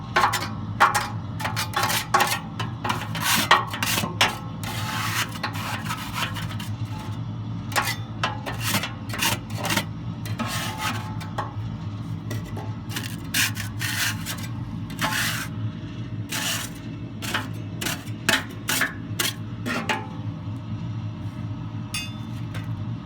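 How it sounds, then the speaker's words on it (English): Scraping ash out of the burn pot of a Harman P68 pellet stove. Repeated close metal scrapes and rasps come in quick irregular strokes throughout, with no talking. "Then you're going to want to scrape out your burn pot with your scraper."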